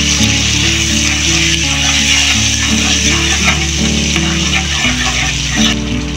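White cooking oil and butter sizzle loudly in a wok, a bright continuous frying hiss over a steady low hum, up close and without talk.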